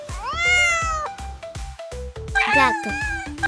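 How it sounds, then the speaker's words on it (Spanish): A cat meows twice, clear and near, with rising and falling drawn-out cries over a light rhythmic music bed. "Esto es un gato."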